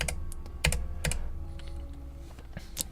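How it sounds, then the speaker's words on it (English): Computer keyboard and mouse clicking during a game stream, a few sharp close clicks and taps spaced irregularly over a low steady background hum. "Clicking as white noise."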